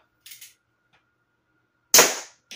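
A CO2-powered Colt 45 air pistol fires a single sharp, loud shot that cracks close by and decays quickly, preceded by a few faint clicks and handling noises.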